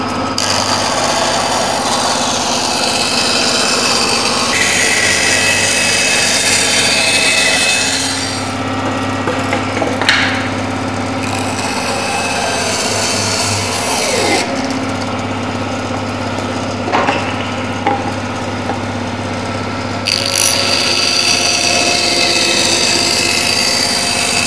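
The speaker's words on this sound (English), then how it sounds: "I did use a bandsaw." A bandsaw cuts wood for serving boards in a shop. Its motor drones steadily, and the blade's whine rises and drops as pieces feed through, with brief knocks between cuts and no talking.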